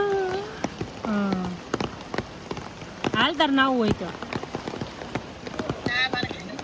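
Rain falls steadily on surfaces outdoors during a downpour, a constant patter beneath people talking and chatting throughout.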